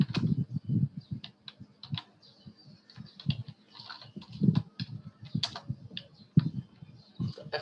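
Quick bursts of typing on a computer keyboard, keys clicking in short irregular runs with brief pauses, close and clear with no talking over it.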